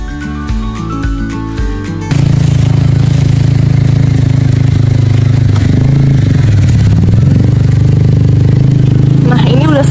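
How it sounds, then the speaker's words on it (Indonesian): A motorcycle struggling through wet mud on a trail: a loud, strained engine drone that holds steady with clattering and scraping, after a brief softer lead-in. "kesulitan bagi motor untuk melaju di permukaan lumpur yang basah"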